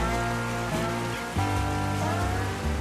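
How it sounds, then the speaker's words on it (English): Heavy rain falls steadily outside, a dense continuous hiss on surfaces heard close and loud, with a low rumbling hum beneath and no talking. "Hear that rain?"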